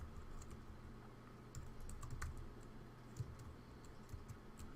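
Typing on a computer keyboard, soft rapid key clicks in irregular bursts, faint and close over a steady low hum, with no voices.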